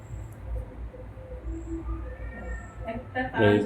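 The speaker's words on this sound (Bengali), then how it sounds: "বিড়াল মেও মেও করছে বাইরে" A cat meows outside near the end, a short high cry or two, with a person talking around it.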